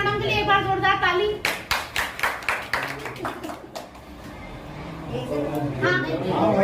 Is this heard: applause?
yes